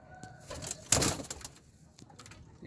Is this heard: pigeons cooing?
yes